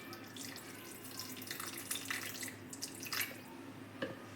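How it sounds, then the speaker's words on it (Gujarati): Water trickling and splashing into rava dhokla batter in a bowl, a faint, uneven close pour with a few droplet splashes, no voices. "આપણા બેટરમાં જેટલું પાણી જોઈશે એટલું આપણે નાખીશું"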